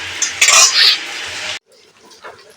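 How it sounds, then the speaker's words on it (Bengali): Malabar spinach and lentils being stirred in a metal pot give loud, close scraping and clinking of a utensil against the pot, which stops abruptly and leaves faint, quiet kitchen sounds. "ঢেলে দেবো পুঁই শাক আর ডাল ঢেলে দিলাম এইটা দিয়ে আমি খানিক্ষণ নাড়তে থাকবো"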